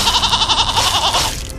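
Goats bleat loudly and close by in a quick wavering run of cries that trails off near the end.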